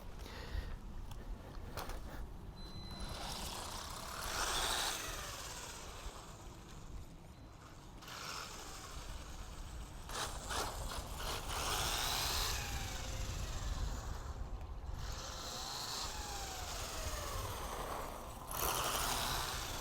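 WLtoys 12428 RC car running on a 2-cell LiPo: a buzzing electric motor whine rises and falls in repeated throttle bursts, with tires churning over ground, fairly close and steady for the whole stretch, with no speech.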